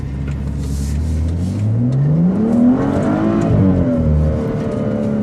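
A 2017 BMW X4 M40i xDrive engine in Sport mode revs up in a rising, continuous roar that peaks and then eases back, loud and close with no speech.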